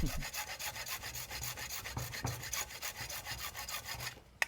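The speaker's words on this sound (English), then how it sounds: "Let the saw do the work." A hand saw cuts through a clarinet part, giving a steady run of close rasping strokes, ending with a sharp click as the piece comes free.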